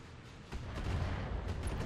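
Heavy mech weapons fire in the BattleTech video game, a sustained low rumbling barrage of booms that starts abruptly partway through and rolls on loudly, with no voices.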